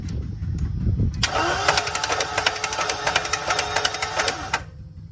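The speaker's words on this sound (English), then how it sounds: "listen to how this engine sounds when it's cranking over" A 2019 Chevrolet Corvette engine with a suspected timing chain fault cranks over steadily with a rapid, rhythmic whirring and knocking that starts abruptly and stops after a few seconds, loud and close.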